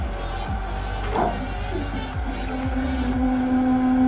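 A Komatsu PC200 excavator's four-cylinder diesel engine idles steadily with a low rumbling drone and a rising mechanical whine, close by, with no talking.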